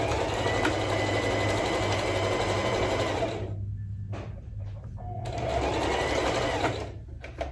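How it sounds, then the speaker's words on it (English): Sewing machine running close by as it stitches a basting seam on a pillow back, with back tacking at both ends: two long steady whirring runs separated by a brief pause with light clicks. "I am just doing my basting stitch, back tacking at the beginning and at the end."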